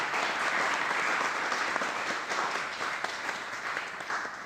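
Audience at a talk on art and philosophy breaking into steady, dense applause for a speaker, fairly even and slowly tapering toward the end.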